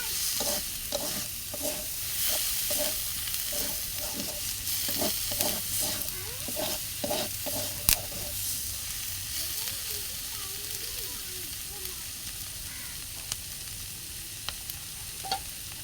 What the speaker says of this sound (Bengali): নাড়ি চেড়ি নেব অল্প জালে ভাজি হবে